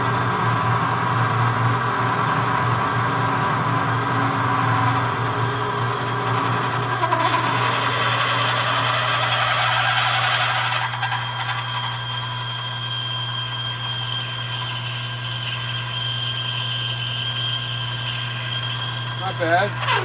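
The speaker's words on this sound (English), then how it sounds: "let's do a drill job." A drill runs through a Harley Sportster cylinder head being reworked for a valve job, a steady continuous machine whine with a grinding, rubbing edge that eases off partway through while the motor keeps running.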